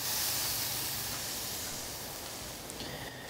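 Beef tenderloin searing on the adjustable grates of a yakitori grill gives off a loud, steady hiss of sizzling fat that fades slightly over a few seconds, with a faint clink near the end.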